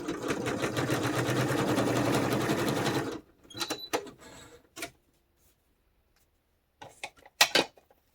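Sewing machine running a zigzag decorative stitch, a steady rapid mechanical chatter for about three seconds, then stopping, followed by scattered light clicks and handling sounds in a quiet room.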